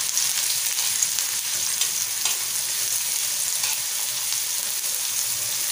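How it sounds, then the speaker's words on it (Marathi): Finely chopped onion sautéing in hot oil for prawn tava fry, a steady close sizzle with light crackles and occasional stirring. "कांदा नरम होईपर्यंत तेलामध्ये परतवून घेऊया आपण।"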